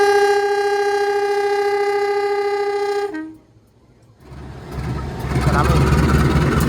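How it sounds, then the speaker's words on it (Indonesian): A long, loud train horn blares steadily as the Arjuno Express arrives at a station on the Surabaya–Pasuruan line, then fades, giving way to the rumble and clatter of the approaching train. "Setelah Mutiara Timur berangkat, masuk kereta api Arjuno Express"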